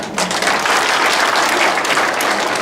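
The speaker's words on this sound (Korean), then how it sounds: "박수 한 번 합시다." A church congregation at a Christmas service bursts into loud, dense applause that holds steady throughout, many hands clapping together in a reverberant hall.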